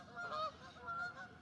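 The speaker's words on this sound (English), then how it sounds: "These geese are having a lot of fun" Geese honking in short nasal bursts, two clusters of calls about half a second apart, moderately close over a quiet outdoor background with no talk.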